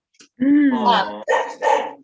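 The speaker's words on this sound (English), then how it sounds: "that's my dog" A dog barks at close range, giving a drawn-out whining bark followed by two shorter sharp barks, loud and prominent.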